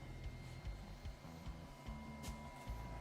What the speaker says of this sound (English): Printer's doing its thing.